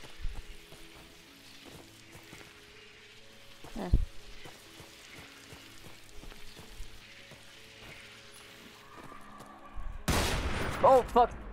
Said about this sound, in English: That's a sniper